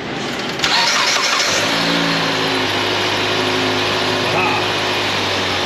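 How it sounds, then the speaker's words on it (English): A car engine cranks and catches after a coolant refill, then settles into a steady, loud idle with a low drone continuing throughout; no talking over it. "Let us restart the engine and then top this coolant off."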